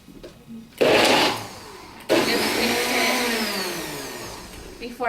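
A blender whirs loudly while mixing an avocado smoothie, starting in a short burst, pausing, then running steadily with a grinding, churning tone that slowly eases.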